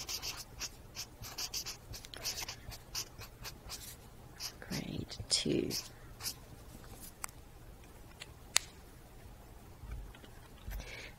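Pen scratches across paper in short, irregular strokes while a person talks over them, the writing close and fairly clear between spoken phrases.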